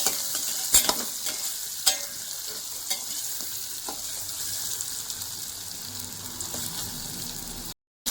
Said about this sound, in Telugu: వీటిని బాగా ఫ్రై చేసి పక్కకు తీసుకోవాలండి.